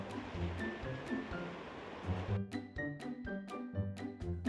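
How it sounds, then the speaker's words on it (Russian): Sea water splashes and surges inside a sea-worn grotto on the Maltese island of Comino, a steady washing roar broken by sharper, rhythmic slaps and echoing splashes, fairly close. "Вот здесь плещется вода."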